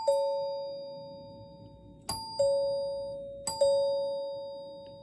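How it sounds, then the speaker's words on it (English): A 1959 NuTone L-30 Chord-Tone doorbell chime rung at the back door, its single top solenoid striking three clear bell-like tones, each ringing out and decaying slowly, close and alone. "Now for the back door, you hear just this top solenoid. So it goes in and out. So let me just ring it a couple times."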